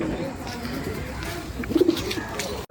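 Madrasi pigeons give a short, low coo partway through, fairly close, over a steady murmur of background noise and faint voices.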